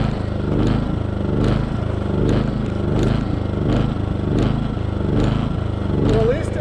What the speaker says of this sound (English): We're gonna let this generator run for a little bit.